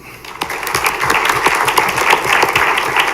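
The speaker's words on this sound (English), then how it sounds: "Please help me give one more round of applause for this great group." Applause from the audience at a school district board of education meeting, a dense steady round of clapping from many people that starts abruptly and holds loud and even throughout, with no talk over it.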